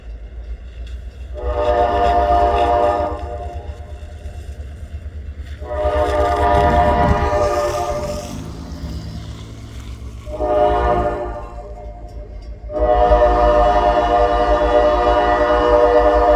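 A loud freight train rolls past close by, with repeated long horn blasts in bursts over a steady low rumble of wheels and cars, heard alone without talk.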